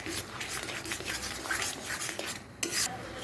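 Roasted mango chutney is stirred in a pan as it thickens, a continuous scraping and shuffling of a spoon over low sizzling, with a sharper metallic scrape near the end.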